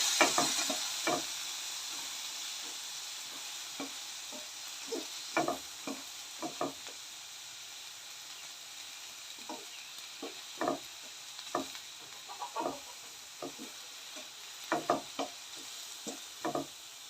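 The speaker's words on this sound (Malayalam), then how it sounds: "കുറച്ചൊന്ന് ഫ്രൈ ആയി വരട്ടെ" Tomatoes fry on a low flame for Palakkad-style tomato pachadi, a quiet steady sizzle under sparse soft scraping taps of a spoon stirring the pan, close and gentle.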